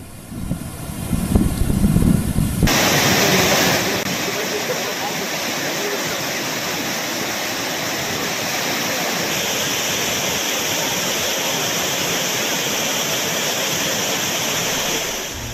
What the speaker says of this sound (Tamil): பிரதான அருவி, பழைய குற்றாலம், ஐந்தருவி உள்ளிட்ட அருவிகளில் வெள்ளப்பெருக்கு ஏற்பட்டது